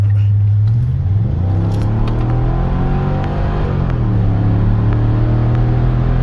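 Mercedes W210 E55 AMG engine accelerating from inside the car, a loud, deep rumbling drone that rises and falls in pitch through gear changes, sustained throughout without talk.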